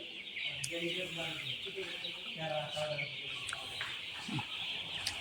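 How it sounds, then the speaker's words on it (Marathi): About nine hundred chickens in a poultry shed cluck and chirp softly over a steady hum of fans, with scattered calls near and far. "नऊशे कोंबडी आहे"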